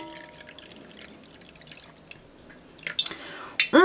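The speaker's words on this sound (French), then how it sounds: "Et ensuite on vient remplir avec de l'eau jusqu'au trait." Water is poured into a small device, with faint dripping and trickling and then a brief, louder splash of filling near the end, heard up close in a quiet room.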